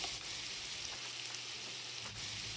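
Spices cook in a pan with a soft, continuous hiss like light rain, steady and close for a couple of seconds with no voices.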